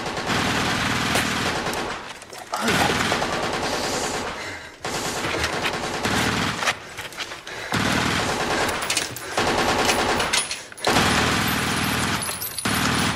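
Sustained bursts of automatic gunfire rattle loud and dense in an action thriller film, broken by short pauses between volleys.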